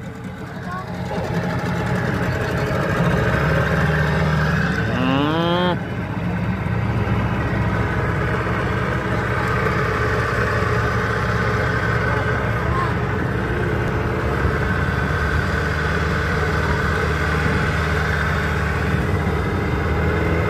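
A boat engine on a Callao Cave tour, a steady loud drone running throughout under talking voices and background chatter.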